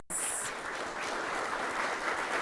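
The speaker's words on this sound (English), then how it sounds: "Let's give these legends a round of applause." Sustained applause from an audience honoring legends at the opening ceremony of the Caribbean Broadcasting Union's 55th Annual General Assembly, a steady dense wash of clapping that starts abruptly and holds evenly throughout.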